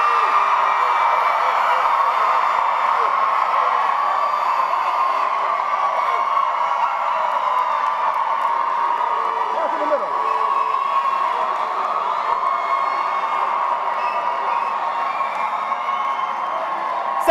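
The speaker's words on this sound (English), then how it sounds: "I am going to give every section of this Coliseum 10 seconds to out-cheer the next section," A section of a graduation crowd in a coliseum cheers and whoops steadily for the whole stretch, a dense, loud, continuous roar of many voices with shouts rising out of it.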